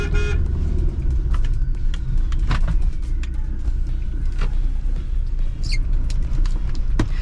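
A Mahindra Scorpio S10 rumbles loudly and steadily through narrow village lanes, with short horn toots and clicks scattered over the continuous road and engine noise.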